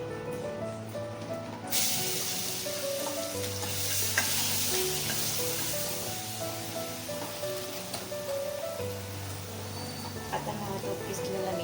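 Ginger, garlic and chili paste sizzles and hisses in hot oil with asafoetida in a pan on a gas stove while it is stirred. A steady, fairly faint frying crackle with occasional scrapes begins abruptly after a brief quiet moment, and a voice is audible in the background.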